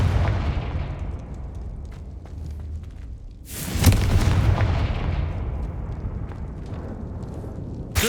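Confringo fire spell blasts in Hogwarts Legacy, a loud booming explosion bursting in after a rumbling stretch of dense combat noise, followed by a continued roar that fades and a sharp crack at the end.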